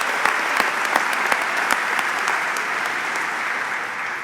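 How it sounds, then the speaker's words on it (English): Audience applause at the opening of a new Tractor Supply facility in Arkansas, honoring a high school group: steady, dense clapping from a crowd, loud and continuous with sharp individual claps standing out, no voices over it. "if we could give another round of applause to the Maumelle High School for kicking off this event"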